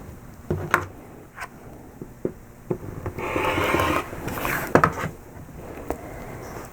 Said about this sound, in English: take another 3/8 of an inch off of the batting